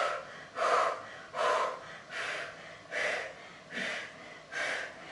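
Heavy rhythmic breathing during a HIIT yoga core workout, six strong breaths in even succession, close and fairly loud with no talking over them.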